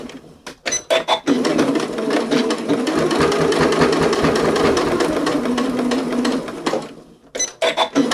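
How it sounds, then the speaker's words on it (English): A sewing machine runs in one steady, loud burst, top stitching along a fabric face mask, with short starts and stops of the motor before and after the continuous stretch. "Now I'm going to top stitch right along where I already top stitched before."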